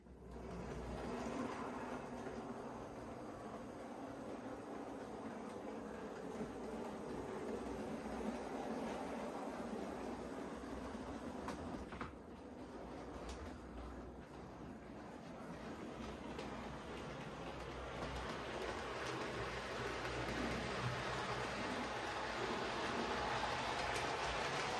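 A steady mechanical whir of a model railway Bulleid Pacific locomotive running along track, continuous and fairly close, with no voices.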